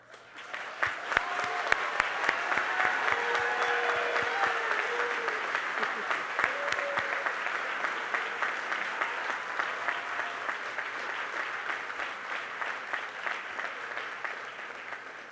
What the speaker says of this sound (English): Would you all join me applauding these graduates?